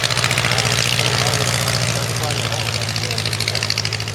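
A vintage airplane's propeller engine runs loud and close, a steady throbbing drone with a rapid rhythmic beat, holding level for the whole stretch.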